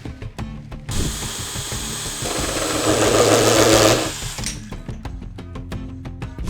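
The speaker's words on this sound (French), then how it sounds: "Je passe également en deuxième vitesse pour la scie cloche." A Parkside 12 V cordless drill fitted with a hole saw runs in second gear, whirring loudly for about three seconds and straining as it bites, with light clicking and tapping before and after.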